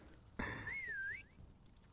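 A rising and falling whistle blows once from a hidden prop in a Call of Duty WW2 prop hunt match. It is a single clear tone of about one second that sweeps up and down, fairly loud over faint background noise.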